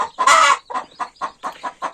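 A broody hen, mother of newly hatched chicks, gives one loud squawk and then a quick series of rhythmic clucks, close and clear, with no other sounds.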